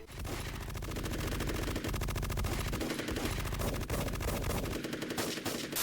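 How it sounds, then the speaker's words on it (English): Rapid bursts of machine gun fire from the 1998 film The Terrorist rattle continuously, a fast, dense staccato with brief gaps, loud and close. "the sound of the gunfire was ridiculous, the most unrealistic thing I have heard recently"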